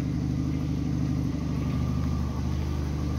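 A Peugeot 206 engine idles smoothly and steadily, a close, even low rumble with a regular pulsing beat and no voices.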